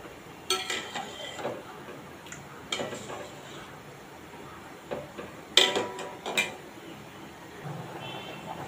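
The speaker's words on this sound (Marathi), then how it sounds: "असं मध्ये मध्ये चमच्याने थोडं ढवळत राहा, म्हणजे पाण्यामध्ये, जेणेकरून पास्ता एकमेकाला चिकटला जाणार नाही।" A spoon stirs boiling pasta in a pot, giving scattered faint clinks and scrapes against the metal over quiet bubbling, with a few sharper knocks near the middle.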